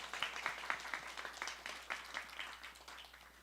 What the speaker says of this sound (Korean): 최고의 영광을 부활하신 우리 주 예수 그리스도께 박수로 올려드립시다.